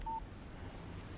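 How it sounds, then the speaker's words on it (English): A short single beep from a phone text alert in Alan Wake Remastered, a brief clean tone over faint ambient background, heard alone without speech. "Text message from Barry."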